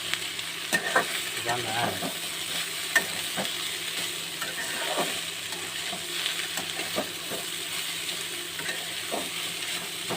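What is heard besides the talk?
onions frying in a pan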